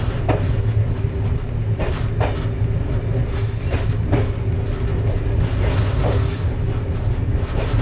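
An Amtrak Silver Star train rumbles past at close range on track with concrete ties, its heavy low drone steady throughout, with wheels squealing on the rails and faint clicking over the track joints.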